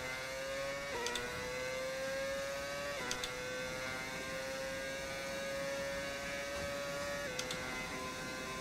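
A Formula 1 car engine in the F1 25 racing game screams at high pitch, rising steadily through each gear before dropping at quick upshifts, repeating three times over a constant droning background.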